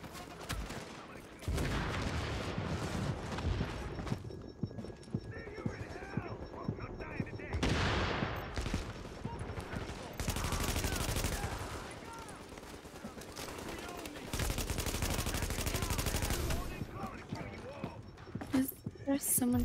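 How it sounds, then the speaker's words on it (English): Bursts of gunfire in the shooter The Division during a fight around a stronghold, loud volleys separated by pauses with people talking between and over them. "There's someone shooting me from the back."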